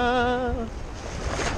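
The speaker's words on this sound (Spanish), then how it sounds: "Son las olas de la mar." Sea waves wash in at Púrio beach, a steady broadband roar of surf with a gusty wind edge, loud and close; a sustained tonal hum rings over the surf at the start and fades after about half a second.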